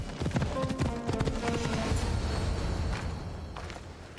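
Horse hooves clopping in the video game Assassin's Creed Odyssey, with a quick, steady run of close hoofbeats that eases off toward the end and has no speech over it.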